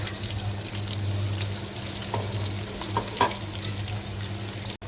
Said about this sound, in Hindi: प्याज हमारा फ्राई हो गया है